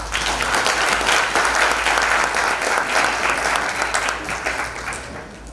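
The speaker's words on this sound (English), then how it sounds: "Kindly give him another round of applause." A crowd at a G20 symposium gives the Deputy Minister a sustained round of applause, a loud, dense wash of clapping that holds steady before easing slightly near the end.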